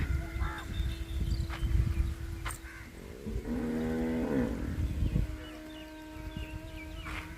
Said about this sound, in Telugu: అవి చూడండి అంబా అంటాను.